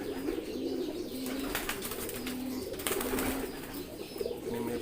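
Kolong pigeons in a loft coo in a steady, repeating rhythm, low soft calls rising again and again over a constant murmur of the flock, fairly close and without any talk.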